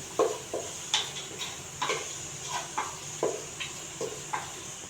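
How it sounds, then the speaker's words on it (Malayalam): Sliced large onions being stirred in a pan, rhythmic scraping strokes of a spoon against metal, roughly one or two per second, over a faint steady sizzle, close and moderately quiet with no speech. "ഇതിലേക്ക് നമ്മൾ കട്ട് ചെയ്ത് വെച്ച ഈ വലിയ ഉള്ളി ഇട്ട് കൊടുക്കുകയാണ് ചെയ്യുന്നത് എന്നിട്ട് ഇത് നല്ലപോലെ ഒന്ന് ഇളക്കി കൊടുക്കണം"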